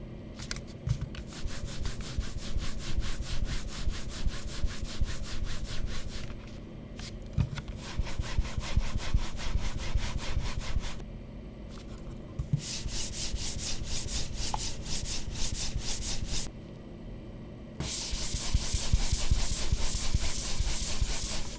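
Superglide mouse skates sliding back and forth across a cloth mouse pad, a steady close-up rubbing scrape in quick repeated strokes that shifts in texture between sections, with brief pauses.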